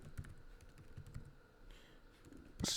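Quiet typing on a computer keyboard: soft, uneven key clicks in a short run, followed by one louder knock at the end.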